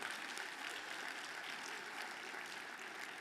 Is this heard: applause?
yes